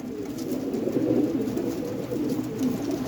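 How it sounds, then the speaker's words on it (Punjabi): Large white-eyed pigeons coo steadily in a low, continuous rolling murmur, several birds overlapping close by with no talk. "ਵੱਡਾ ਕਬੂਤਰ ਆ ਬਾਈ ਇਹ"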